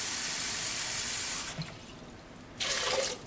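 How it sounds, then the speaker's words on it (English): A cup of water pours into a pot of cranberries in a close, bright splashing rush that briefly stops, then gives a second shorter burst before fading. "I'm going to add to this 1 cup of water."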